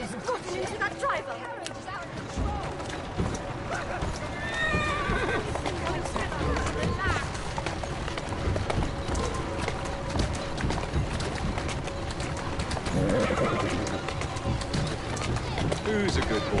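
Horse whinnying and hooves clip-clopping in Assassin's Creed Syndicate, set against a busy street din with crowd babble and scattered calls; the neighs stand out around the middle, with steady trotting throughout.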